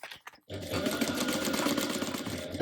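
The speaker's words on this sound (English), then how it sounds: "We're going to sew this at a 1/2 inch seam allowance." A sewing machine stitches a lining panel at a half-inch seam allowance, starting abruptly after a brief pause and then running steadily and close with a fast, even mechanical whir, while a person talks over it.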